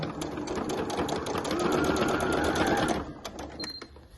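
A domestic sewing machine runs steadily, stitching slowly along a marked line on a fabric clutch with batting, its rapid needle chatter continuous for about three seconds before slowing into a few separate stitches.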